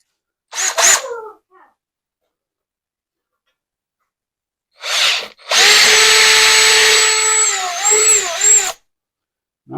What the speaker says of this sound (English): they provide you the drill bit and everything to drill the holes